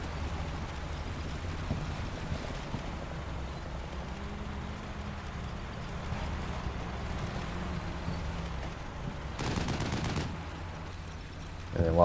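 Distant gunfire from a modern combat in the wargame Combat Mission Shock Force 2, a low steady rumble of shots with a sharper burst of rapid fire near the end, no talking.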